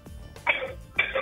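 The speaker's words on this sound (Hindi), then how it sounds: "खांस क्यों रही है, क्या हो गया ऐसा?" A woman coughs twice over a phone line during a call-in television show, two short, harsh bursts heard through narrowband telephone audio.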